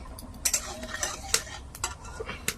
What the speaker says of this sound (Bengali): দেখো ফোড়নটা ভাজা হয়ে গেছে